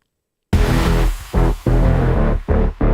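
A computer-generated song bursts in after a brief silence, loud and dense with heavy low end, chopping in and out in short choppy bursts with brief gaps between phrases.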